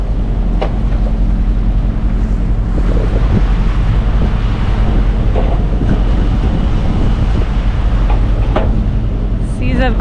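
Sailboat pitching through choppy seas in about 25-knot winds and mixed swells, with a steady loud rush of wind and water over a low hull rumble, occasional creaks and splashes, and brief talk near the end.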